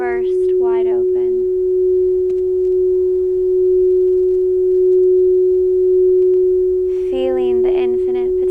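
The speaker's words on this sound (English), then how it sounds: "connecting to the sounds of this bowl" A singing bowl in a sound-healing meditation rings with one steady, sustained pure tone. It holds evenly for several seconds, with soft speech at the start and end.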